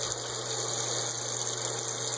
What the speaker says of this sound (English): I get the toothbrush wet,